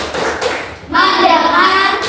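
Classroom clapping chant, a few quick hand claps and taps in rhythm mixed with children's chanted voices, close and lively.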